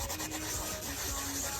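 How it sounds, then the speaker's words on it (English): Steady close sanding and rubbing on a restored magnet fishing find, a continuous abrasive scratching with no talking. "And I am gonna be doing a little bit more sanding."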